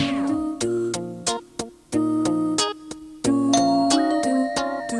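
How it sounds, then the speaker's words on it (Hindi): A home doorbell rings with a repeated ding-dong chime. The ringing tones sound over and over in a steady pattern and overlap as each one fades, clear and fairly loud, with no talking. "अरे बेटा घंटी बज रही है"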